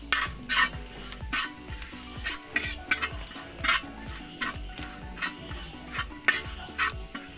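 Chili powder frying in a pan for a pork and tapioca biryani, with a loud sizzle and a rhythmic, scraping stir that repeats every half second or so, close up, with no voices.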